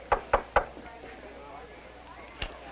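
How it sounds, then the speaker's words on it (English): Several sharp knocks on the door of a school teachers' lounge, three quick raps in a row followed by a single fainter knock after a pause, with quiet room tone between. "Who'd be knocking at the door of the teacher's lounge?"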